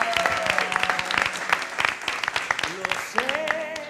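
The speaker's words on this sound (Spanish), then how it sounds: "Un aplauso para este reportaje." Studio audience applause for a report on a Spanish satirical comedy TV show, a lively burst of many hands with sharp individual claps standing out, and brief cheering or whoops rising above it near the end.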